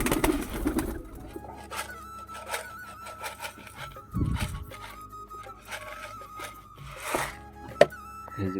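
Pigeons coo close by in soft, repeated throaty calls, with a few light thunks and shuffling sounds mixed in over quiet surroundings.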